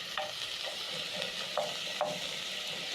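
Minced beef browning in a pot for Cajun rice, a constant soft sizzle with a few sharp spatula scrapes as the meat is broken up, close and without speech.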